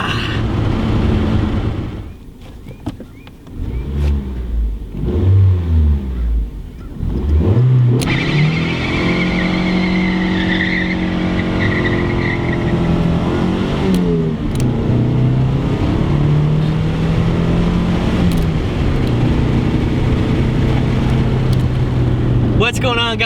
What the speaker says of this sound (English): The 240 is on the road. She's driving, she's good